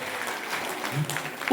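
A crowd at a meeting claps in a steady patter of applause, with voices talking over and around it.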